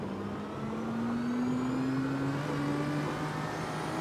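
A JDM racing car's engine in the video game CarX Street drones steadily as a turbo whine slowly rises in pitch, loud and continuous with no talking.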